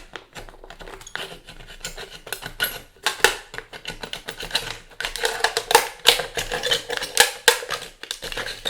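Dense, rapid scraping and ticking as a utility knife saws through a thin aluminum can, close and continuous with rhythmic bursts, growing louder toward the end.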